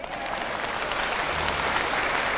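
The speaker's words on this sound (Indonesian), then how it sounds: "Mana tepuk tangan?" An audience bursts into steady, dense applause at a workplace talk, the clapping loud and continuous throughout with no speech over it.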